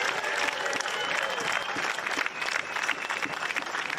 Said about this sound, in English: let's hear a huge round of applause for our 4 finalists